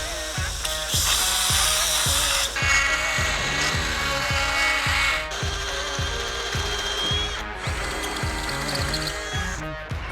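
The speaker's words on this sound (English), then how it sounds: "why are you drilling out holes you cut on the plasma table?" A power drill bores precise holes through plasma-cut steel for a Tacoma build, grinding in a steady series of short pulses with a ratcheting rhythm, loud and close with no talk.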